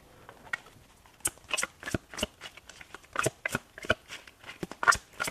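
A deck of tarot cards is shuffled by hand close up, with a quiet run of riffling flicks and soft card slaps that grows busier over several seconds.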